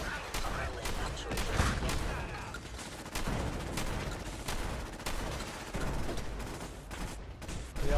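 Rapid gunfire crackles through a Fallout 4 firefight, sharp repeated shots in uneven bursts with brief lulls over steady background game noise.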